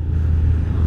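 Big cars passing on a road, a loud, close, steady low engine rumble filling the moment without voices.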